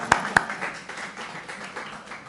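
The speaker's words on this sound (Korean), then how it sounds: "박수 한번 쳐드리겠습니다" Congregation applause at an evening church revival meeting: two sharp, close claps open a short burst of scattered clapping that continues steadily at moderate volume, with no clear talk over it.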